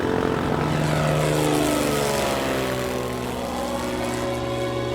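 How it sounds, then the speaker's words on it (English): A small propeller plane takes off from runway 27, its engine drone loud and steady with a sweeping pitch that bends as the aircraft accelerates and climbs, no voices over it. "99er X-ray, you are clear for takeoff on runway 27."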